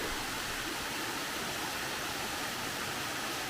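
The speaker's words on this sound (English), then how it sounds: "Well, here's the waterfall." Small waterfall right alongside a hiking trail in Black Rock Mountain State Park, a steady, broad rushing roar of falling water, close and continuous with no voices.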